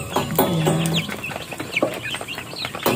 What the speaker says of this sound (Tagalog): Ang dami po ng ano namin dito, manok.